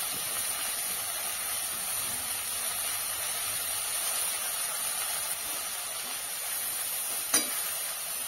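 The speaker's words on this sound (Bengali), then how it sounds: "শাকগুলো কড়াইতে দিয়ে এভাবে হালকা নাড়াচাড়া করতে হবে, যাতে লবণটা পুরো শাকের সঙ্গে মিশে যায়।" Amaranth greens sprinkled with salt are stirred and fried in a wok, giving a steady, even sizzling hiss throughout, with one sharp clack of a utensil near the end.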